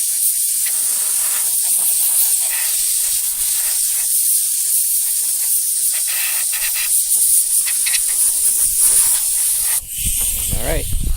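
A steady, loud hiss of compressed air blowing dust off a Craftsman workbench being restored runs nearly the whole time, with a sharper burst of blowing near the end.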